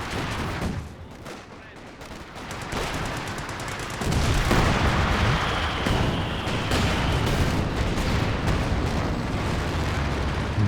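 Artillery and gunfire in Company of Heroes 2, a 2v2 World War II strategy battle: repeated booming blasts and crackling shots build from sparse hits to a dense, continuous barrage after a few seconds, loud throughout.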